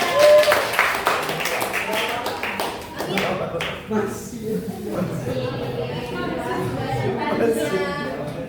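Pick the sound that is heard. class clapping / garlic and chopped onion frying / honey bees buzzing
class clapping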